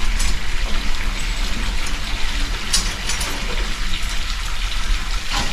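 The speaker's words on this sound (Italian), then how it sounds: "Adesso fa entrare l'acqua fredda." Steady rushing cold water pours and gushes continuously at close range into a Cornish steam engine, a broad hissing flow with a low rumble beneath it.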